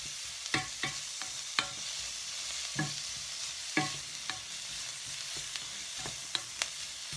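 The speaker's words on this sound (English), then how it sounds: "You just want to stir the onions around slightly and cook them for a minute or two" Onions stirred as they fry in a pan: a steady, soft sizzle runs underneath while a spoon scrapes and knocks at irregular intervals, roughly a dozen sharp strokes close by, with no voices.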